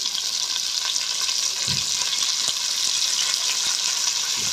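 Coriander and mint leaves hit a hot frying pan for Muslim-style white kuska, giving a steady, close hiss of sizzling oil with a few soft stirring knocks and no talking.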